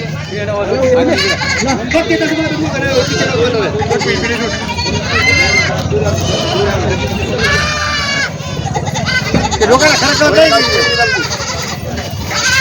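Goats bleat repeatedly at a busy goat market in Vasmat, where kids and a nanny goat are up for bidding; overlapping calls near and far sound over a steady crowd murmur with people talking.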